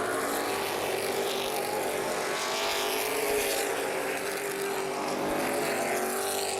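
Race cars roaring past on the New Paris Speedway during a 100-lap summer race, a steady, dense engine drone that holds loud and continuous throughout, with no speech.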